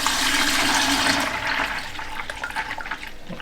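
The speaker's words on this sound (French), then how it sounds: "Je vais mettre tout ça dans le seau." Liquid cleaning product poured with hot water into a bucket, a loud, close, continuous rushing splash that slowly eases and turns more uneven toward the end, with no talk.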